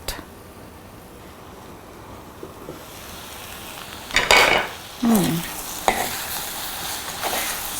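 Okra stir fry cooking in a covered pan: a soft background sizzle with a few clattering stirs and utensil scrapes against the pan, close and moderately loud.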